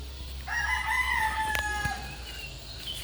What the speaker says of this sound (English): some chicken neighbors